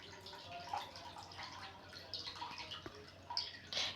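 Tamarind water trickling and dripping through a strainer, with small splashes and light clinks, close by and fairly quiet.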